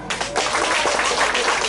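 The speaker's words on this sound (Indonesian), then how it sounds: "Tepuk tangan dulu." A congregation at a thanksgiving Mass for a newly ordained priest breaks into loud, close, sustained clapping that starts sharply and carries on evenly to the end.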